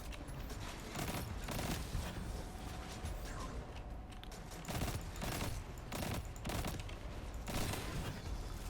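A four-shot burst weapon fires repeatedly in the first-person shooter Destiny 2 during a solo Nightfall strike, with sharp clustered bursts of gunfire recurring throughout amid game mechanisms and effects.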